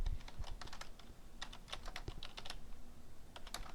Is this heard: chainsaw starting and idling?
no